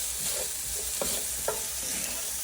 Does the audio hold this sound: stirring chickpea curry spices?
yes